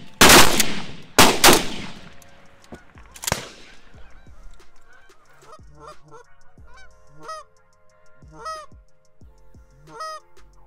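Canada geese honk repeatedly on a goose hunt over freshly chopped corn, the calls coming in short rhythmic bursts after several loud opening shotgun blasts.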